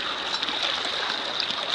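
Water flows steadily along a riverbank stream, a constant close rushing and trickling with small splashes, no voices.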